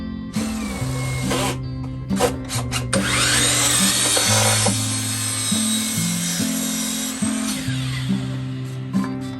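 Power drill driving angled screws into two boards, joining them for house floor repair work, its motor whining close and loud in repeated stepped pitches, rising and falling over the whole stretch.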